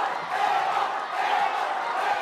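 Dense crowd roar and cheering fills a boxing match at Balai Syarbini, a steady wash of many voices with whoops rising and falling throughout.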